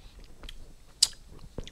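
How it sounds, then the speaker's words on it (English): Someone chews and bites a frozen green apple icy pole near the mic, giving a few soft crunches and one sharp bite in a quiet room. "Still chewing."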